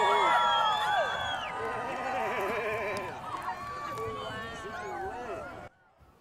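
Crowd of people gathered outdoors to view a solar eclipse, cheering and shouting together in a loud, sustained wash of voices with rising whoops, cutting off abruptly near the end.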